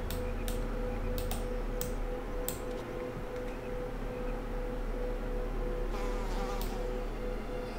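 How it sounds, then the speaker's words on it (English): A bee buzzes in Lord of the Rings Online, a steady faint hum over constant low game ambience, with occasional sharp clicks. "There's a bee."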